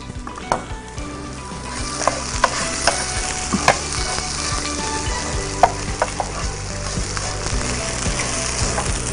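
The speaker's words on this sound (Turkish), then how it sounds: "Bence pirincim yeterince kavruldu." Rice toasting in a pan with a steady close sizzle and frying hiss, broken by repeated sharp clinks and scrapes of a utensil stirring against the pan.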